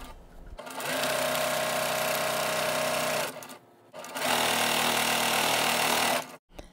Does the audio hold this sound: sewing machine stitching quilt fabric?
yes